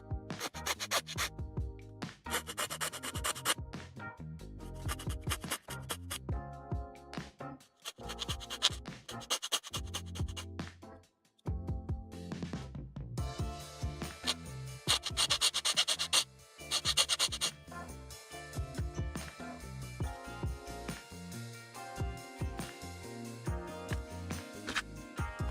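Scraping and sanding sprue nubs off plastic parts of a 1/35 Kotobukiya tank model kit, steady close-up rasping strokes in repeated bursts with brief pauses between, quiet and alone without talk.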